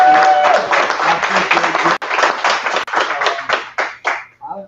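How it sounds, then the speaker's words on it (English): A round of applause from a staff gathering, dense clapping hands that rise and fall in waves before thinning to a few last claps; someone talks briefly near the start. "I just want to give you a round of applause."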